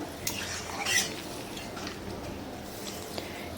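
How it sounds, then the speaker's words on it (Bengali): Spoon stirring potato, pointed gourd and soybean curry in a pan, a soft steady scraping and squishing with a few light clinks, close and alone. "একটু নেড়ে নিয়ে"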